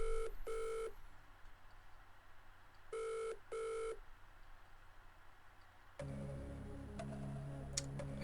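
Telephone rings out on a quiz show as a contestant phones a friend: two paired bursts of ringing, then a pause and another pair, clear and fairly close, followed by a noisier line-like hiss and clicks.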